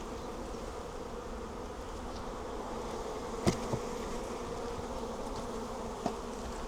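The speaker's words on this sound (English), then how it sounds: "Loads of bees came out." Honey bees buzz in a dense, steady drone around an opened hive, close and continuous, with a couple of brief knocks partway through.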